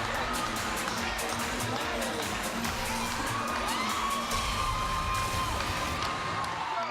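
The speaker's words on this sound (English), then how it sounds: "And the crowd loves it." A crowd at a high school game cheers and shouts, with children whooping and a loud, sustained roar of applause from the stands filling the gym throughout, voices blending into continuous noise.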